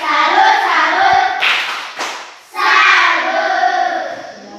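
A group of children in a classroom claps a rhythmic salute clap, two bursts of fast clapping split by a brief pause, loud and close.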